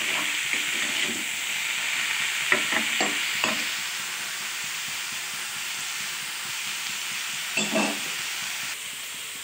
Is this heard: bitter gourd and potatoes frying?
yes